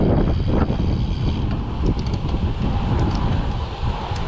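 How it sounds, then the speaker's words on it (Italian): Steady wind roaring across the microphone while road cycling in Slovenia, a continuous low buffeting rumble with gusty fluctuations throughout, no voices. "qua c'è un po' di vento a favore"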